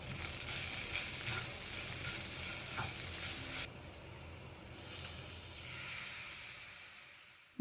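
Chopped onion with red chilli, cumin, coriander and turmeric powders and salt frying in a pan. A steady close sizzle with stirring scrapes suddenly drops to a softer, quieter crackle partway through.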